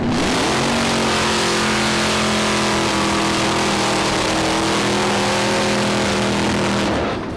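A 2010 Ford Mustang Super Cobra Jet, a factory-built drag race car with a 5.4-liter 32-valve V8, revs loud and close. Its deep harmonic engine note climbs and holds, then fades slightly at the end.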